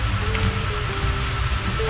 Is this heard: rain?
yes